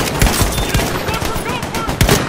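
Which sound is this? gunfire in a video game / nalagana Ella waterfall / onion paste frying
gunfire in a video game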